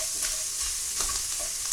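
Sausage browns in a frying pan, a steady close sizzle with stirring and scraping of the pan throughout, no voices.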